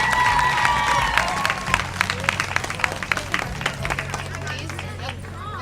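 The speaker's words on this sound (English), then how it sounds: "Give these young ladies a round of applause." Audience applause and crowd noise for young pageant contestants at the Miss OHillCo Queens Contest, a stage event at the Ohio Hill Country Festival; steady clapping with scattered sharp claps, fading slightly toward the end.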